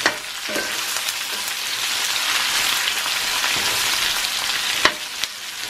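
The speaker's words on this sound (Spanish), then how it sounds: "Nada más en cuanto se acitrone o se dore un poquito lo que es la cebolla." Chopped onion sautéing in a pan on a stove for a pork rib and nopales dish in red sauce, giving a steady bright sizzle with a few sharp clicks from stirring near the end.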